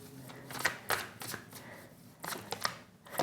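Tarot cards being shuffled and drawn by hand, a run of quick, close, papery riffles and snaps with short pauses between bursts.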